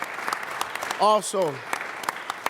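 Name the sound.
audience applause for coaches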